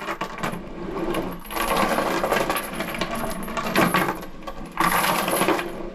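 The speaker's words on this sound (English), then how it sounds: "I have chains being dragged" Metal chains scrape and jangle as they are dragged across a wooden board, a rough, continuous rattling that surges in a few strokes.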